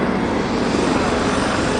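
A Nanchang propeller aircraft roars past at an airshow with other planes in formation, a steady, loud engine drone filling the air without a break.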